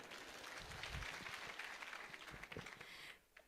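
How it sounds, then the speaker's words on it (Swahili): Applause from an audience at a community gathering in Meru, Kenya, for a girl named Masha, steady crowd clapping lasting about three seconds before fading abruptly. "So tupigie Masha makofi"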